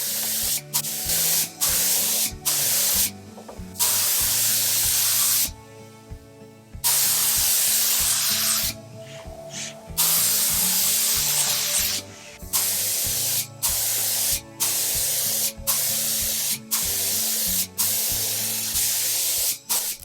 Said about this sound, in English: And now I'm finishing it with clear satin lacquer.